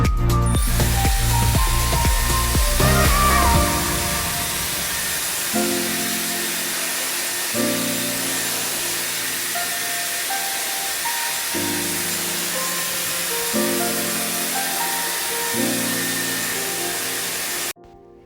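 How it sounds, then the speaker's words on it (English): A Dyson Airwrap with its dryer head attached blows a steady, loud airflow that hisses throughout, with a faint rhythmic clicking at the start and shifting low hums as the setting changes. "So this is the AirWrap and I'm going to attach the dryer head"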